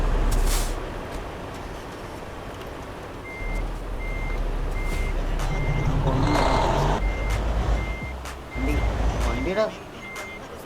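Truck reversing beeps in Euro Truck Simulator 2, a KSRTC bus mod on a dangerous road: an evenly spaced electronic beep repeats steadily over a rumbling engine and hiss of air brakes, with someone talking intermittently.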